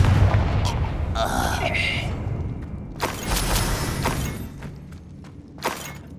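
A Confringo blasting spell explodes in Hogwarts Legacy with loud booming bursts and a shattering crack, followed by further sharp impacts near the end amid game ambience.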